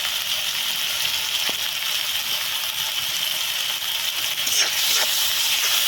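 Turmeric, cumin and chilli powder sizzle steadily in a pan for a potato and egg curry, a continuous bright hiss close by, loudening slightly near the end, with no talking.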